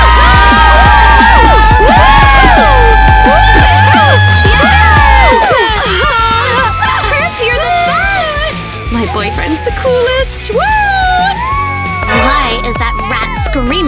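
A crowd of girls screams and cheers, loud overlapping high-pitched shrieks and whoops that stay intense throughout and ease slightly toward the end.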